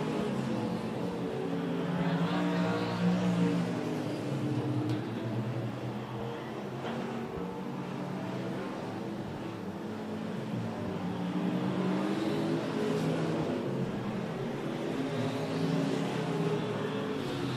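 USRA Limited Modified race cars roar around the Big O Speedway oval during a feature race, a steady loud engine drone that swells and fades as the pack passes, with no talking heard.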